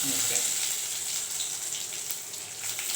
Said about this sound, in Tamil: உளுத்த பருப்பும் கடலை பருப்பும் போட்டுக்கலாம்